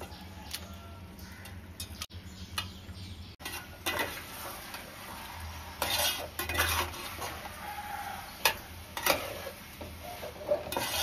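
Marinated chicken goes into a pan of fried tomato and onion, followed by scraping, stirring and clinking of a utensil against the pan under a low sizzle, fairly close and steady.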